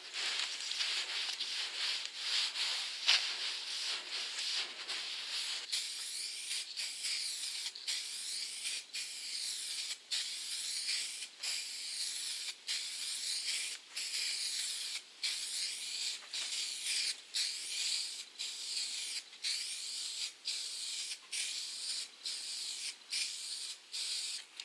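A spray can lays clear coat onto car paint in a peeling clear-coat repair, a continuous close hiss that breaks into a regular series of short sprays separated by brief gaps, with no talking.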